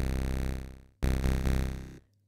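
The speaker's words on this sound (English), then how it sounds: "you can really make this sort of synth bass with any synth." A deep synth bass from an analog synth, with the first oscillator dropped an octave, plays two sustained buzzing notes, loud and close, the first fading before the second starts.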